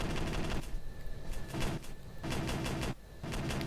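Aircraft cannons fire in the combat flight simulator IL-2 1946: several dense, loud rapid-fire bursts with brief pauses between them, and no talking.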